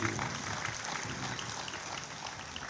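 Faint, distant applause from an audience at a public gathering honouring the regent Pak Giri, a dense, even patter of many hands like light rain that carries on steadily.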